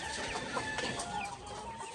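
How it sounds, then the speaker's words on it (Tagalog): Breeder hens cluck steadily over a busy background of farmyard noise, with several birds calling at once. "Ito yung mga inahin natin na binibreed."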